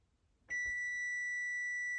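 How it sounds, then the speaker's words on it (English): A microwave timer gives a single long steady electronic beep that starts abruptly and holds at an even pitch, clear and close, with no talk over it. "Microwave timer to set a 10-minute"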